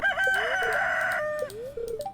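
Chicken in the farming video game Stardew Valley gives a loud, close crowing call, followed by a few short clucks, alone with no talk.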